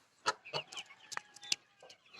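Several young village chickens, mostly roosters with fewer hens, cluck in short, scattered bursts at a moderate distance, with a few sharper calls standing out.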